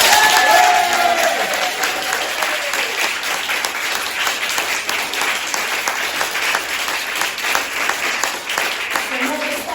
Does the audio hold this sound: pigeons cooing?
no